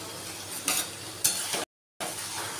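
Garlic stirred into a frying mutton masala, producing a steady close sizzle with spoon scrapes and stirring bursts, broken by a brief silence.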